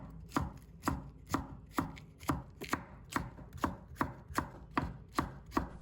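A knife chops a deseeded red chili pepper into thin strips on a cutting board, about fourteen crisp, evenly spaced strokes close by with no talking.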